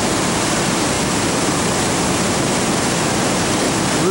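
Allagash River water rushing into falls over rocky sinkholes, a steady loud broadband roar of churning whitewater, close and continuous with no voices.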